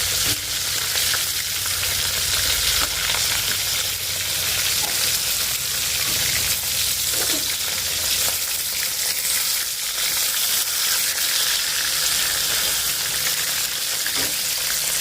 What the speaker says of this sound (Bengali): মাছগুলো এক পাশে ভাজা হয়ে গেছে এই পাশটাও উল্টায় দিই